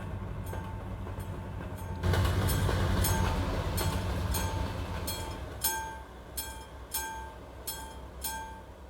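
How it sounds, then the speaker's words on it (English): A train passes in Euro Truck Simulator 2, sounding as a rumbling roll followed by a run of rhythmic clickety-clack wheel beats at moderate distance. "Train? Must be a train somewhere."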